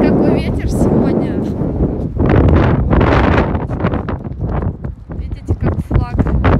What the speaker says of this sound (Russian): Ветер очень сильный сегодня.